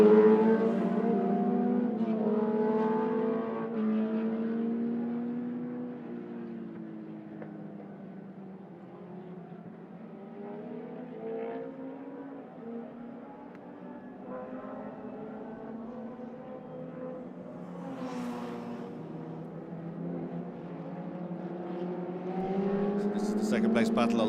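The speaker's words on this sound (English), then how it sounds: "Great sound from McLaren as it blasts up Kennedy's Rise through Lola corner and out onto the back straight" A historic McLaren race car at a historic racing festival accelerates hard up Kennedy's Rise, through Lola corner and onto the back straight. Its engine note rises and falls steadily, loud and continuous throughout.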